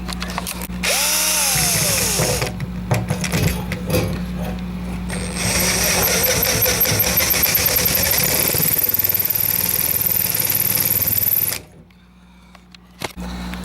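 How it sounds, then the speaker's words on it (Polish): A power drill grinds and whines close and loud as it widens holes in the metal floor of a Polonez car, running steadily for about ten seconds before stopping abruptly. "Trzeba naprawdę porozwiercać te dziury"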